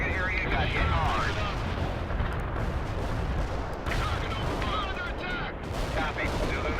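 Mortar barrage in the war strategy game World in Conflict: continuous rumbling, crackling bursts of artillery fire and distant impacts rolling throughout, loud and dense, with radio-style voices talking over it.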